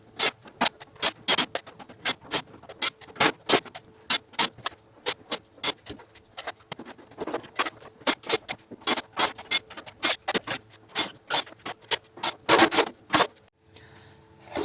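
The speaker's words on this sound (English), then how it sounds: "I'm going to remove a few screws." Screws come out of an electric convection heater being scrapped for aluminium and steel: a long run of small sharp metallic ticks and scraping clicks in quick irregular bursts, close by and fairly quiet.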